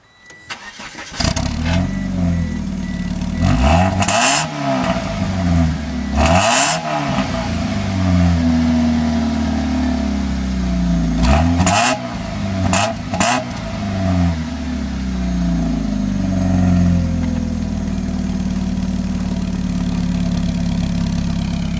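Car with a modified exhaust, still riding on hubcaps, starting up and then revving hard in several loud bursts, dropping back to a rough, throaty idle between blips, close and alone.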